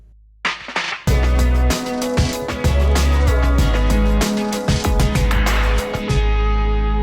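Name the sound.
short sting version of a music cue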